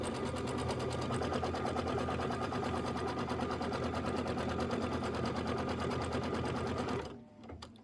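A sewing machine runs steadily and close, stitching a quilting design on a Kimberbell autumn project in one continuous buzzing run that cuts off abruptly near the end.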